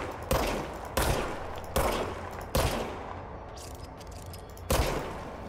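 Service weapon gunfire in the video game Control, five sharp, loud shots spaced roughly a second apart, ringing out alone with no talk.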